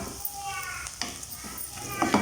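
Vegetables for fried rice frying in a pan, a moderate sizzle with light spatula scrapes and taps as they are gently stirred.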